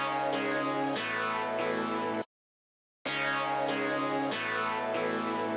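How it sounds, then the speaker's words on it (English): Three layered synths playing the same chord progression in a beat, with bright repeated chord stabs for about two seconds, a short silent gap, then the progression again, close and steady with no voices. "So now let me show you what it sounds like with these 2 other synths that I layered with the exact same chord progression."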